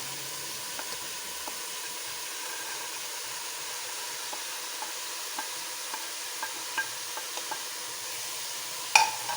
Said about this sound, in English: Now I will put the baby corn, the carrots and the French beans.